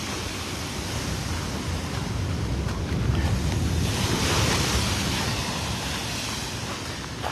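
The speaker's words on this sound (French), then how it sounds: "le véhicule se fait asperger encore par la mer" Sea waves driven by a storm in Basse-Terre, Guadeloupe, spray over a vehicle near the shore, a continuous loud wash of surf and wind noise with a swelling surge midway.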